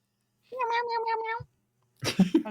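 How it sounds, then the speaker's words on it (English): Cartoonish cat meows from the Homestuck webcomic. A long, drawn-out meow is followed after a short gap by a rougher burst of overlapping cat cries. "So many kitty cats. So many kitties."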